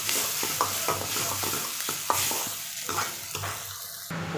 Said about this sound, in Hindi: सभी मसालों को अच्छे से फ्राई करेंगे।